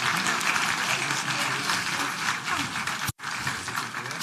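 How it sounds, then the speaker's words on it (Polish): An audience at an engineering event claps in a dense, sustained wash of applause that cuts off abruptly for a moment near the end, then resumes. "Oklaski, proszę państwa."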